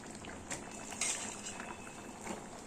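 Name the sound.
pangas fish being stirred and sautéed in a pan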